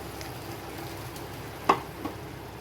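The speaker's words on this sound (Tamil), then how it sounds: "இது நல்லா கொதிக்கட்டும்." Strained tamarind water for puliyotharai (tamarind rice) simmers in a pan with a soft, steady bubbling sizzle. A couple of sharp clinks stand out near the end.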